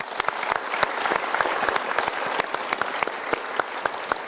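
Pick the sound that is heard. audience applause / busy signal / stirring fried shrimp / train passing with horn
audience applause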